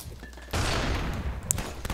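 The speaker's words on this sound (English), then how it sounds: "It's obviously a hip fire of a submachine gun" Submachine gun fired from the hip in a video game, a sudden burst of rapid shots that keeps rattling after a quiet start, with a sharp crack partway through.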